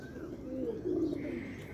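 Pigeons coo close by in a low, soft, rolling call that rises and falls, steady and moderately loud, with no talking over it.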